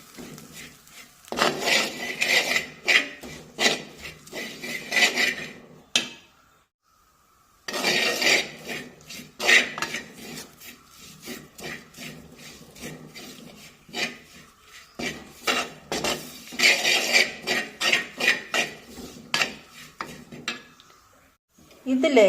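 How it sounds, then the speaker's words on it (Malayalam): Chili powder and turmeric stirred in a pan over low heat for a Kerala fish curry, giving repeated scraping and rubbing strokes of a spoon against the pan in three bursts separated by short pauses, close and moderately loud. "എല്ലാം കൂടെ ചെറുതീയിൽ ഇളക്കി മൂപ്പിച്ചെടുക്കാം."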